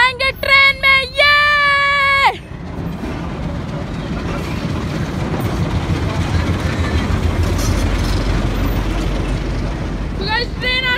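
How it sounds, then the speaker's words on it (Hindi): The Bhakra train rolls into a station with a low rumbling roar of wheels and carriages that builds and holds steady, preceded by a voice and loud wavering tones. "सो गाइस ट्रेन आ चुकी है"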